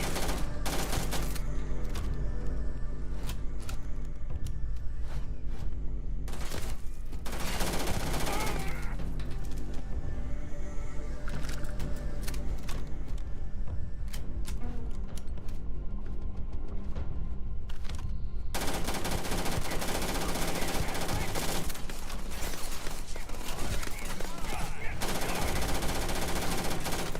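Sustained automatic gunfire in the Starfield video game rattles in dense, continuous bursts, loud and near, with brief lulls and a few spoken voice lines mixed in.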